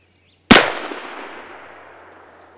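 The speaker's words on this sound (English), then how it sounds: "That's a nice rifle. And you hit it again." A single sharp rifle shot fired outdoors at a backwoods rendezvous, one loud crack that rings out and decays slowly over a couple of seconds, with no talk over it.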